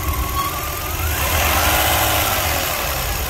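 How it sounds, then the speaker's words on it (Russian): A car with a strange engine problem idles with a steady mid-pitched buzz and low rumble, swelling slightly halfway through and then holding an even, close drone, with no talk. "А сейчас нормально зажужжало."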